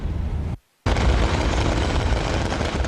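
Fourth of July fireworks explosions in downtown Grand Rapids, loud continuous rumbling booms cut by a sudden brief dropout before the roaring blasts resume at full strength.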